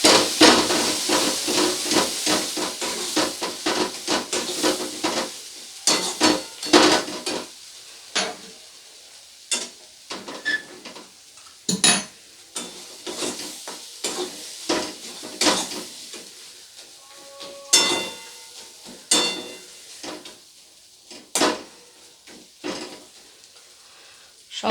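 Prawn head paste and kochur loti being sautéed in a pan, with a soft steady sizzle broken by repeated sharp scrapes and clinks of the spatula stirring.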